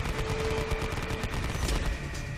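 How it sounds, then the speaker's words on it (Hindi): Dense, indiscriminate gunfire from several shooters in a battle around rocks on a slope, a continuous loud crackling burst with no pauses. "अंधाधुंध फायरिंग करने लगे।"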